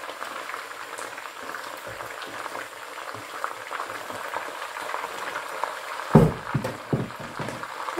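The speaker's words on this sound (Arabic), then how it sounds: "طبعا بعد ما تقلى الدجاج ديالنا غادي نضيف عليه البصل" Chicken with onions frying in a pan for biryani, a steady close sizzle running throughout, with a few louder bursts of crackle and stirring near the end.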